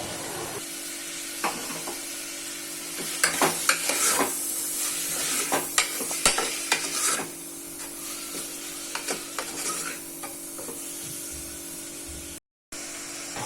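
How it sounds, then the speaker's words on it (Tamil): Onion, tomato and green chili saute in a pan for mutton kulambu, with a continuous sizzle, repeated sharp spatula scrapes and clicks against the pan, and a short dropout near the end. "வெங்காயம் தக்காளி நல்லா வதங்கினதுக்கப்புறம்"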